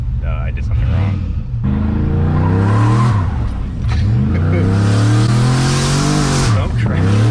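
A 600-horsepower turbocharged GMC Yukon does a burnout, its engine revving hard and rising and falling in pitch with tire squeal and roar, loud and close while people talk and shout over it.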